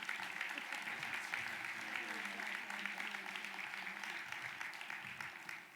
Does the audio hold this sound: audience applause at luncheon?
yes